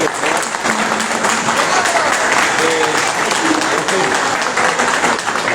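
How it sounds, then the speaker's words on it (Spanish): Audience applause at a conference lecture: a loud, dense, steady clapping that fills the whole stretch, with some voices mixed in beneath it. "Un fuerte aplauso."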